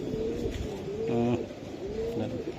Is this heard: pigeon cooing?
yes